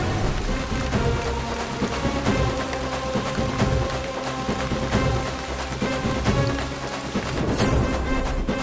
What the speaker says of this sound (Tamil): அதனாலதான் நமக்கு மட்டும் மழை பெஞ்சதா?